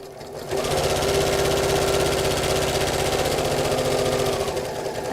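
A sewing machine stitches two fabric bunny-ear pieces right sides together, starting after a brief pause and then running in a steady, close, rapid mechanical whir until the end.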